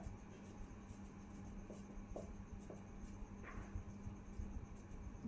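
Pen writing out a class 10 maths solution on paper, a steady quiet scratching with short strokes and taps continuing throughout, close and alone with no talk.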